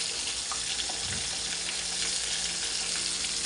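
Food frying in oil gives a dense, continuous sizzle and crackle, close and steady throughout, with no talking.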